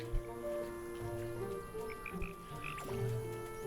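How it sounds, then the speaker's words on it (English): Frogs croak steadily in the cozy hotel-building sim Hotel Gala, a soft layered ambience of low calls with faint insect buzzing and chirps mixed in, continuous and gentle throughout. "Just froggies."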